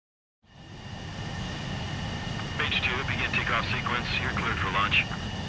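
A jet aircraft launches in Ace Combat Skies Unknown, a steady engine roar swelling loud and close, with a radio voice speaking over it partway through.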